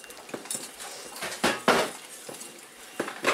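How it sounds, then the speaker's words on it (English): A spoon scrapes and clinks softly against a pot of thickening rib sauce in irregular strokes, quiet and close, with a couple of louder scrapes midway. "keep stirring until it starts to thicken up"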